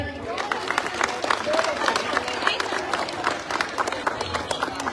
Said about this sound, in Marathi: सर्वांनी टाळ्या वाजवायचे.